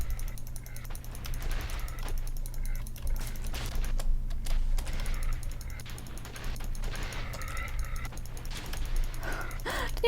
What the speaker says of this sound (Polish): Po prostu klikam!